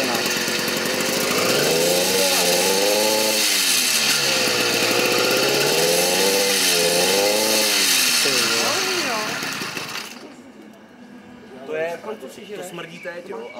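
Small two-stroke engine on a motorized bicycle runs loud and close with a rising and falling revving whine, then cuts out and leaves people talking.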